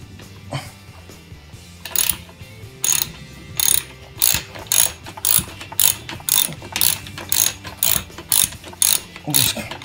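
Socket wrench on the front axle nut of a TaoTao DB14 110 dirt bike, ratcheting in a steady run of sharp, close clicking bursts that repeat roughly every half second and grow louder partway through.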